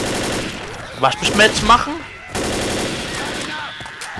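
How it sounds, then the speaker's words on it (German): Rapid bursts of automatic gunfire from the zombie shooter Left 4 Dead rattle close and loud, broken by a short pause, while a player talks over the shooting. "Ich lauf jetzt vor und knall alle ab, ohne euch."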